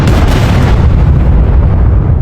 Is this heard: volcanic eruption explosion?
yes